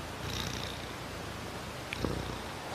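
A cat purrs in a continuous low rumbling drone, close and steady throughout, with no talking.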